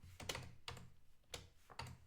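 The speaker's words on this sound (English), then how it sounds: "My typing is terrible this evening, I apologize." Computer keyboard typing comes in four short bursts of rapid clicky keystrokes, close and quiet, separated by brief pauses, with no speech over them.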